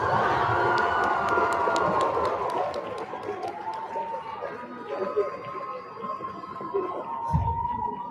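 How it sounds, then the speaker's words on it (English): An audience at a debate competition final cheers and shouts for mock trial finalists, a loud crowd roar with whoops and rising voices, some sharp claps early on and an announcer's voice among the noise. "One more round of applause for our mock trial finalists."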